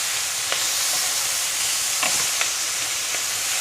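Pork sizzling and frying in a hot pan just after being flipped, a constant dense hiss with a few small pops and crackles, close and fairly loud with no voices.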